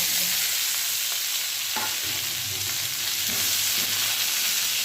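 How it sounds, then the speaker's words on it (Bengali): Chopped onions fry in hot oil in a wok with ginger-garlic paste for bhindi masala, giving a steady, close sizzle with faint stirring scrapes throughout and no talking. "এবার আমি পেঁয়াজ কুচিটা দিয়ে দেবো"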